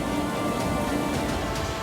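Heavy monsoon rain falling steadily, a dense, even hiss that holds at one level throughout this short stretch, with no voices.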